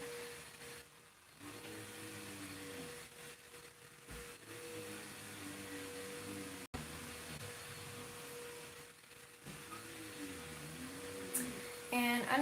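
A household vacuum cleaner runs steadily in another room, a faint continuous whine and hum under quiet indoor sounds, with brief dips and shifts as it is moved around.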